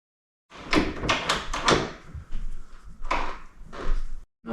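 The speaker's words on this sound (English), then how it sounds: "Press the latch and it will start moving very hardly." A closet or bedroom door latch being pressed and worked during handle installation, a series of close mechanical clicks, clunks and rattles in short bursts with brief pauses.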